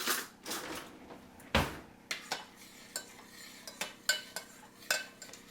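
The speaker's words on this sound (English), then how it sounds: "We're going to stir that, and we're going to continue boiling that for 3 minutes." A spoon stirring boiling sauce in a pot on the stove, with a series of short, scraping knocks and clinks against the pot at irregular intervals, close and fairly quiet.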